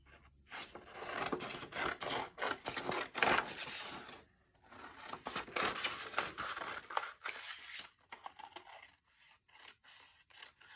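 Scissors snip through paper while a tag is trimmed for a junk journal, in close, crisp bursts of cutting and rustling with short pauses between strokes and no voices.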